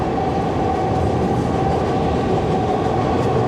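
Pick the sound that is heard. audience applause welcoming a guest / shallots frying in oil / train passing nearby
train passing nearby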